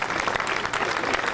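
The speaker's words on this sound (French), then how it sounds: "Chaque cercueil est applaudi par la foule." Mourning crowd at a funeral in Santiago de Compostela applauds a passing coffin, a loud, dense, unbroken wash of clapping from many hands.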